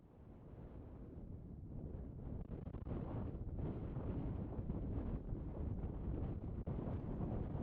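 Strong wind buffets the microphone on an exposed fell summit, Glenridding Dodd above Ullswater in the Lake District. It is a loud, continuous low roar that builds over the first few seconds and carries no speech.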